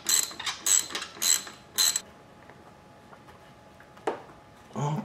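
Hose clamp being turned with a tool on the water pump of a Honda CX500, four short loud ratcheting clicks close by, then quiet and a couple of softer clicks.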